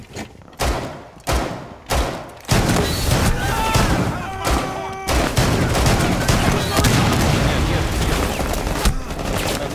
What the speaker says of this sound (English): they're shooting from into the window